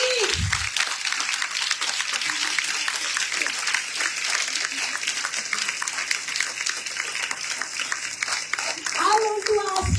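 Steady, dense applause from a school audience fills the whole stretch, with a few voices briefly audible near the start and end.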